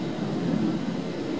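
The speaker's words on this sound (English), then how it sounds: "I think you can probably hear the jet going over" Military jet passing overhead near a joint reserve military airport in Fort Worth, Texas, heard as a steady, loud low roar that stays even throughout, with no talking.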